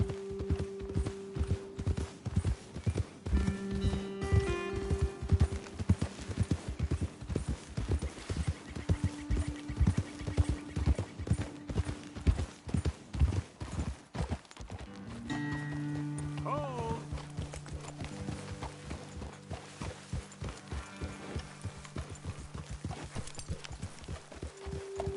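Steady clip-clop of horse hooves walking at an even pace in the video game Red Dead Redemption 2, close and fairly loud, with music and ambient sounds layered underneath.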